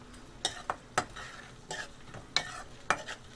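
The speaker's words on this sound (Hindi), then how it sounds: "अब इसमें हम अदरक और लहसुन डालेंगे जो छोटे छोटे टुकड़ों में कटे हुए हैं। इसे हम अच्छी तरह भूनेंगे" Chopped ginger and garlic being stirred and fried in a pan for a dhaba-style palak paneer masala, with soft sizzling under sharp intermittent scrapes of a spatula against the pan, about six strokes, with no talking.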